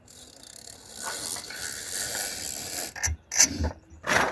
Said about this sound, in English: as you pull it in, you can hear the ratchet